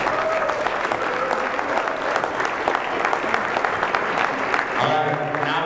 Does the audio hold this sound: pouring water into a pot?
no